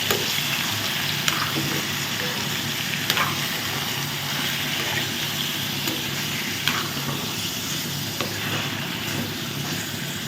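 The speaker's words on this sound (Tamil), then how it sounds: "நம்ம கட் பண்ணி வச்சுருக்க சிக்கனை வந்து போட்டுக்கலாம் நல்லா சிக்கனை புரட்டி விடுவோம்" Chicken pieces for a spicy chicken pepper fry sizzle steadily in a hot pan, with stirring scrapes and occasional louder clinks over a constant frying hiss, no talking.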